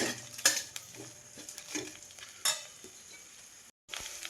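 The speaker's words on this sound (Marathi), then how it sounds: "हे सगळे मसाले आहेत ना तेलामध्येच भाजून घेतले" Whole spices, cloves, peppercorns, a cinnamon piece, star anise and bay leaves, frying in oil in a home kitchen, a faint low sizzle broken by a few clinks and stirring scrapes of a utensil against the pan.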